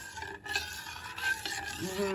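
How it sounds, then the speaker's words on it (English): Milk for vermicelli payasam is stirred in a pot, a continuous scraping swish of the spoon against the pot with faint simmering underneath. "keep stirring in between"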